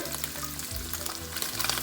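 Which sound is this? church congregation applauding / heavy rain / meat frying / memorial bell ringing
meat frying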